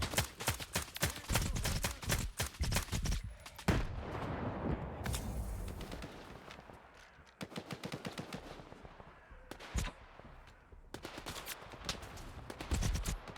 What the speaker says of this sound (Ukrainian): Чому вони всі по мені стріляють?